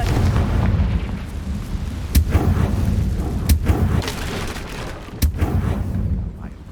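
Confringo spell blasts in Hogwarts Legacy, sharp explosive bursts that strike several times at irregular intervals over a loud, rumbling combat backdrop.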